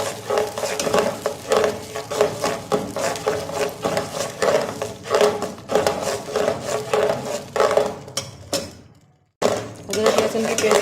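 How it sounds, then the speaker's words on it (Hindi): A spoon stirs ginger garlic paste and spices in a cooking pot for Pakistani chicken pulao, making rhythmic scraping strokes over a continuous sizzle, loud and close, with a brief drop to near silence near the end. "अब हम इसमें अदरक लहसुन की पेस्ट डालेंगे। इसको हम मिक्स करेंगे खुशबू आए।"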